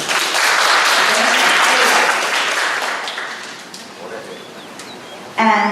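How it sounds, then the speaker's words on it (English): Round of applause from a workshop audience, loud dense clapping that swells then thins and fades out over several seconds, leaving a quiet room before a voice starts speaking again. "please give a round of applause for him"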